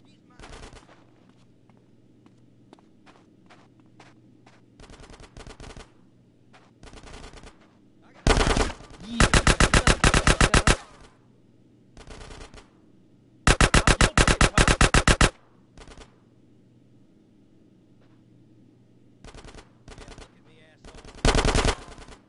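Machine gun suppressing fire rattles in GTA San Andreas, with several long, loud, rapid bursts and scattered single shots separated by quieter gaps of low game ambience.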